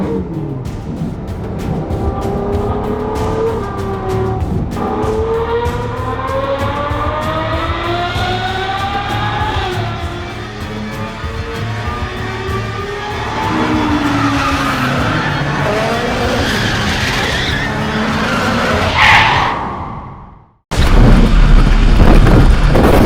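A Ferrari skids on screeching tires, long wavering squeals sweeping up and down over a loud engine, building to a sharp burst before a brief dropout and then a harsh, loud noisy aftermath of the crash.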